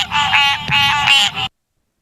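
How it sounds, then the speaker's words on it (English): Squirrel tree frog calling, a loud, close, raspy nasal quacking trill that runs for about one and a half seconds in two bursts, then stops. "The next one is the squirrel tree frog."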